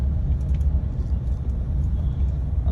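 A Mahindra XUV700 petrol manual drives through city traffic, its low engine and road rumble steady and continuous inside the cabin, with no talk.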